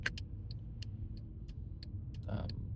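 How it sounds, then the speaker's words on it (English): Steady low rumble of road traffic passing nearby, a continuous drone with a few faint ticks and a slightly louder swell near the end. "There's a lot of traffic today for some reason."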